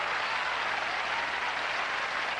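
A tennis crowd at a 1984 Forest Hills final keeps up steady applause and cheering for Ivan Lendl, a broad, even wash of clapping from the stands with no break.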